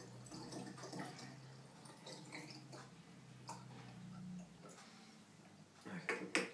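Vodka poured into a container of Skittles: a quiet, continuous liquid trickle and splash with small clinks and knocks, close and faint, swelling slightly near the end.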